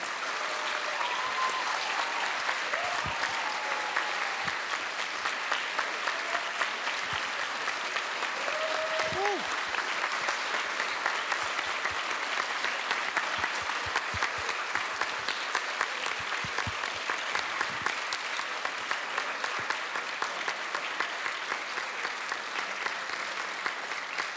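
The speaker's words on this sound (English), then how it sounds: "So an extra strong set of applause." Long, steady applause from the audience at a closing ceremony in Riga, Latvia, continuous even clapping heard at moderate distance, with faint voices now and then underneath.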